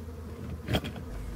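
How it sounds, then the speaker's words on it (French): Honeybees from a drone-laying beehive buzz steadily as the hive and its frames are shaken out, a soft continuous hum with a brief louder swell near the middle. "le but, c'est de sortir toutes les abeilles qui sont restées dans la ruche et au fond du plancher"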